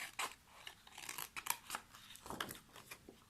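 Scissors snip steadily through paper, cutting out a printed motif with a narrow white border, a close, quiet run of crisp irregular cuts with no voice.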